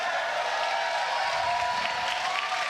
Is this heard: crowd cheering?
yes